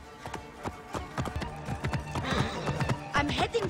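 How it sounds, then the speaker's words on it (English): Hooves clop in a quick rhythm as a horse whinnies near the end, fairly close and clear over faint background sound, in the video game Assassin's Creed Origins. "I should find a horse."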